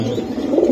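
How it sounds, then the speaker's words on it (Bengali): Racer pigeons in a loft give a soft, close, low-pitched coo, brief and murmuring, with no one talking. "এই জায়গায় আরো কিছু কবুতর আছে রানী।"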